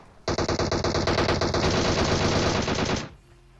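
A DP machine gun firing in PUBG Mobile, one loud sustained burst of rapid automatic shots lasting about three seconds, then cutting off.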